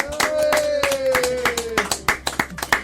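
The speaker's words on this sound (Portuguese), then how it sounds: "E uma salva de palmas para nossa produção" A few podcast hosts clap by hand in a studio, close and uneven at first, then settling into separate sharp claps, with a sustained tone and a voice underneath early on.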